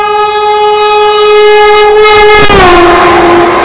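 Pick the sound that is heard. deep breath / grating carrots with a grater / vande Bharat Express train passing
vande Bharat Express train passing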